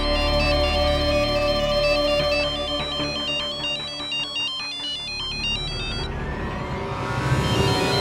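A phone ringtone plays loudly and continuously, a bright repeating melodic tune that runs for several seconds and then fades into a lower, noisier tail near the end. Nobody speaks over it.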